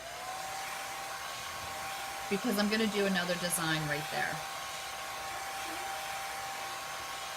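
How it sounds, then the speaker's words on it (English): A hair dryer blows with a steady whirring whine from start to finish, and a person speaks briefly partway through. "I'm going to go ahead and get my hair dryer to help dry this along"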